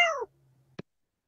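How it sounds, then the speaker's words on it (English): A single AI-generated cat meow with a falling, slightly whiny pitch lasting about a quarter second, followed by a faint low hum and a short soft click, otherwise silent. "cat meowing"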